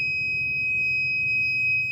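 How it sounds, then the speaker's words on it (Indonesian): Steady electronic buzzer tone from an IoT rain guard warning system, a continuous high-pitched beep held throughout at moderate level over low background hum, with no talking. "memberikan peringatan melalui LED yang terpancar dan suara buzzer"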